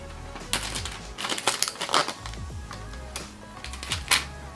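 The back cover of a Fire TV Cube 4K is peeled off, giving a run of close plastic clicks, creaks and scraping crackles of varying loudness over a low hum.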